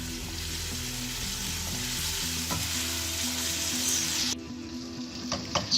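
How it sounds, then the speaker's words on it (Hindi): Masala-marinated chicken sizzles and fries steadily in a pan, a loud continuous hiss with occasional stirring scrapes, while low background music plays underneath. "अपना चिकन जिसको हमने लगा लिया था मसाला, और इसको हम रख देंगे फ्राई होने"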